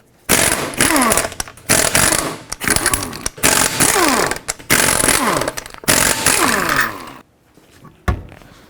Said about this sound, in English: with a 19mm socket, take all 5 of your lug bolts off and then remove the wheel